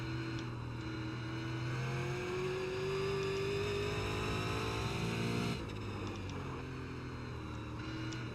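Super Late Model race car engine in the iRacing video game at Stafford, droning steadily with rising pitch under acceleration and a sudden drop as the revs change, continuous and fairly loud with no talk.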